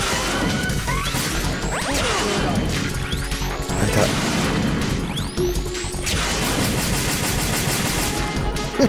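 Chaotic Metal Gear Solid 2 boss-fight combat with repeated gunfire, impacts and whooshing effects, loud and continuous with no gaps.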